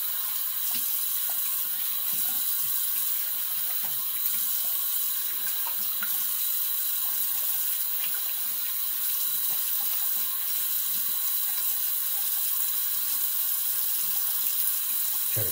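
Cold water runs from a tap into a sink while someone rinses off after shaving. The splashing flow is steady and continuous for the whole stretch, with no talking.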